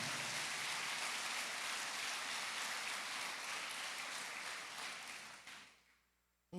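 A church congregation applauds in a long, dense burst of clapping that holds steady for several seconds, then thins out and fades away.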